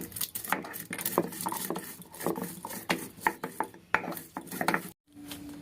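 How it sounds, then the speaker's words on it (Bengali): Roasted spices are ground by hand in a village kitchen, giving a quick run of irregular knocks and scrapes, close and fairly loud, ending with a brief pause and a short faint tone. "প্রত্যেকটা ভাজা মশলা আমি আলাদা আলাদা করে কিন্তু গুঁড়ো করে নিচ্ছি।"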